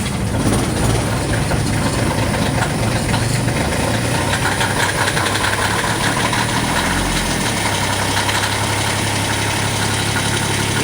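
Diesel engine of a Kioti CS2520 compact tractor runs loud and close on a cold morning, a steady rough idle with a slight shift in pitch partway through.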